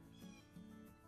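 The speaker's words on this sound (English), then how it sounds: "Got a cat coming up through the woods." A cat meows twice, faint and fairly distant, while approaching through oak woods, the calls drawn out over a steady outdoor background.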